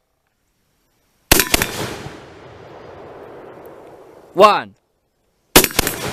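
A Shockwave 2.0 M85NP air rifle fires one loud, close shot with a long decaying tail, then a second sharp report about three seconds later and another begins as the clip ends; a short spoken word sits just before the second shot.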